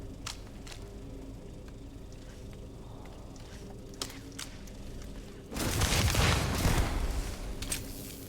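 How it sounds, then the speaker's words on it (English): Shotgun fire in a video game: a few sharp, scattered shots early on, then a loud, dense burst of blasts and booming impacts in the last few seconds. "Ooh, that's a good shotgun."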